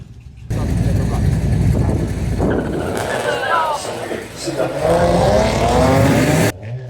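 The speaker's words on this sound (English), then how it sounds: "Sylvia Purcell with the Mustang taking on Ben Jeffrey's Nissan 370." Loud, roaring drag racing engines, a Ford Mustang against a Nissan 370Z, launch and accelerate hard at Santa Pod, with rising revs and a sustained howl that cuts off abruptly near the end.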